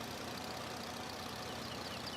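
An Allis-Chalmers tractor engine idles in Farming Simulator 22, a steady low mechanical rumble with a faint knocking texture, holding even and unbroken throughout with no talk.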